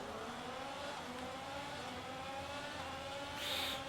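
Several F1 race cars in the F1 22 video game accelerate together off the grid at a race start, a dense sustained engine roar with layered whining tones, steady throughout and swelling slightly near the end.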